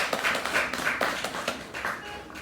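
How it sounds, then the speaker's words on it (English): A small group at a Sri Krishna Janmashtami lecture claps for a couple of seconds, light and scattered, close by and fading out. "Round of applause for Dan and Jaya."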